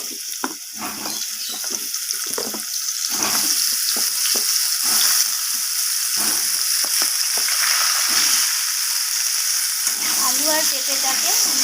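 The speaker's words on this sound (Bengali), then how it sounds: "তেলের সাথে এইভাবে নাড়িয়ে চাড়িয়ে একটু ভেজে নেব" Cubed potatoes and papaya sizzle loudly in oil left over from frying fish, with steady crackling and the scrape of stirring throughout, close and continuous.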